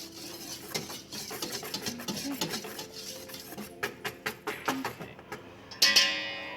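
Flour, salt and dry pancake ingredients mixed in a bowl with a utensil, giving a close, rhythmic series of scraping, clinking strokes that build to a louder clatter at the end.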